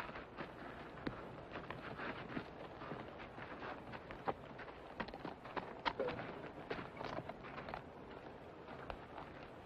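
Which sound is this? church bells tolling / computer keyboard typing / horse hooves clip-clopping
horse hooves clip-clopping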